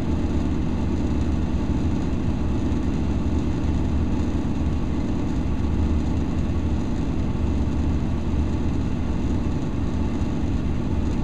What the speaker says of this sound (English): Once it runs for so many seconds, it should cycle the blower motor off.